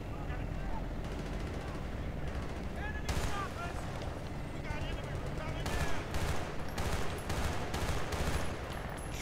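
Rapid bursts of gunfire crackle through a Battlefield: Bad Company 2 firefight, with sustained automatic fire and scattered shots layered under a player talking over the game.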